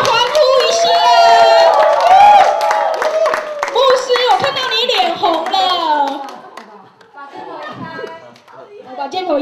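A crowd at a church fellowship Christmas birthday party cheers and claps loudly, voices rising in excited shouts over scattered clapping before the noise thins out into chatter.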